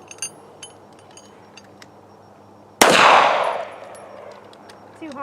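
One sharp, loud shot from an S&W M&P Shield .380 EZ pistol fired at a target about 10 yards away, preceded by faint small clicks and followed by a brief fading ring.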